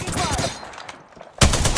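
Gunfire in a shooter video game crackles in rapid bursts, dense and loud at first, fading briefly, then resuming sharply near the end.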